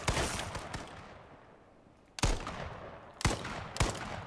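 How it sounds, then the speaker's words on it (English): Gunfire during a gunfight in the battle royale game H1Z1, a rattling burst at the start, then a lull and three sharp, loud shots spaced out near the end. "Now I'm in a gunfight with somebody"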